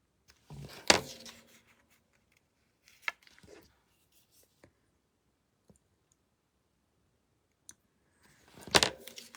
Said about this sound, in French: Je fais juste couper ici la bordure pour pouvoir insérer